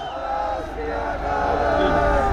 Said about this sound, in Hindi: जोरदार तालियां, जोरदार जयकारे